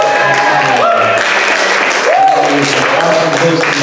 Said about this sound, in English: A big round of applause for River